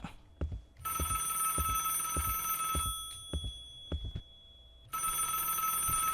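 Telephone ringing in the Roblox horror game Alone, a bright electronic ring in two long bursts separated by a pause, with soft footstep-like thumps beating steadily underneath.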